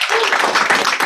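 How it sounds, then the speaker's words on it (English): Brief applause breaks out from the audience at a university tech talk, a short dense patter of many hands clapping close by. "We should give him a round of applause."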